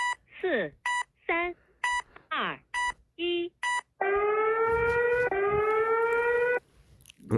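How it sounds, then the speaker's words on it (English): A seismic alarm from China sounds as a series of short, sharp electronic beeps and falling tones, then a long sustained wailing siren tone that rises slightly before cutting off, loud and close. "Seismic alarm. China."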